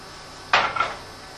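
A metal pot of lasagna sauce with milk is set back down on a stove, giving one close, bright clank with a short rattle that quickly fades.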